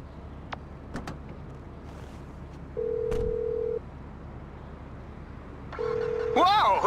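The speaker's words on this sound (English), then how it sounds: "Whoa, who changed my ringtone?" In GTA 5, a mobile phone ringtone starts as two flat electronic tones, then turns into a rising melodic ring, over game ambience with faint clicks and engine noise.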